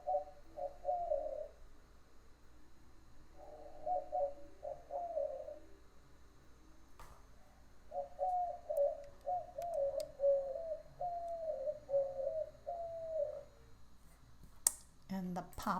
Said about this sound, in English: Here is the sound for the white-winged dove.